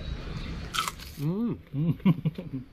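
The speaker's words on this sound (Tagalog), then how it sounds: "Malutong parang chicharon." Someone bites into a crunchy fried snack like chicharon, giving a few sharp crisp crunches close to the mic, with a voice speaking between the bites.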